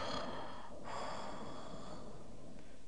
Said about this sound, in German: ein merkwürdiges Atmen in einem dunkelgrünen Raum